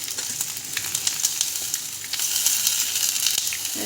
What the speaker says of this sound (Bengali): এবার আমি পেঁয়াজগুলো দিয়ে দেবো, আর পেঁয়াজগুলো দিয়ে সব একসঙ্গে ভালো করে আবার ভেজে দেবো